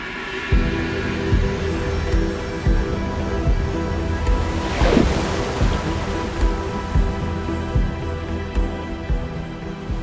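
Ocean surf at a surfing spot: steady washing roar of breaking waves, loud and close, with a fuller swell near the middle.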